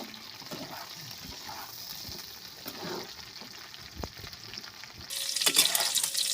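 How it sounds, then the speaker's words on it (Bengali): Steady sizzling of green chillies frying with scraping stir strokes, growing louder and brighter toward the end, no voices. "কাঁচা লঙ্কাগুলো দেওয়ার পরে ভালো করে একটু কষে নেব"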